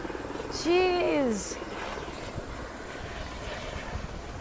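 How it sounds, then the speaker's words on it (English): A second helicopter passes overhead on a Sunday morning, its rotor and engine drone rising briefly loud and then fading into a steady background rumble, with a voice exclaiming over it. "Listen, we thought they were done, but it's a second helicopter."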